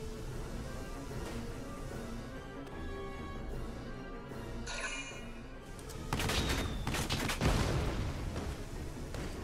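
Enemy gunfire in the Valkyria Chronicles 4 video game, scattered shots over a humming battlefield backdrop that swell into a louder, denser burst of fire near the end.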